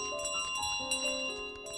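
Ringing a bell in Untitled Goose Game: clear, sustained metallic chimes that shift in pitch, heard alone in the game audio.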